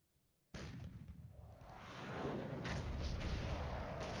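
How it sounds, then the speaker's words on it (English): Distant artillery fire rumbles in a Cold War tactical wargame, a sudden onset of continuous low booming and crackle that swells louder partway through and keeps going without pause. "Oh, that's just my artillery going in"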